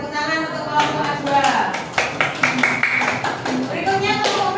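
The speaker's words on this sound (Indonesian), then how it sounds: "tepuk tangan untuk kelompok A2." A classroom audience claps for a student group, a brief burst of scattered applause mixed with voices and cheering.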